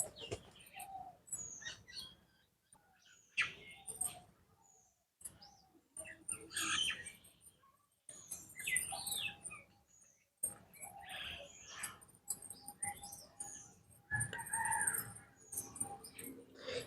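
Pigeons coo and chirp around a friend's house, with intermittent calls, bursts of flapping wings and short gaps of quiet, fairly close.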